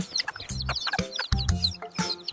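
A hen in a children's alphabet song clucks in short, rapid bursts of clipped, chattering calls repeated about every half second, loud and close, with no talking.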